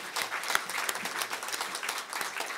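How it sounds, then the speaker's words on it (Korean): A congregation applauds during a Christmas church service and graduation ceremony, with brisk, dense clapping that holds steady and fairly loud for the whole stretch. "이제 들어갈 때 박수 주세요."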